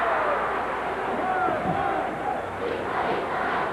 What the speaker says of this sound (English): Great crowd here in Osaka. Boy, they're just cheering for everything.